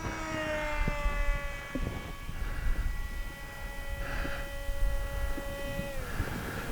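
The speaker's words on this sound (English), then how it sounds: "Oh, what a sweet flying plane." A Skynetic Dragonfly RC model plane flies on its maiden flight over a grass field, its electric motor a sustained whine drifting in pitch as it passes, moderately distant with light wind noise.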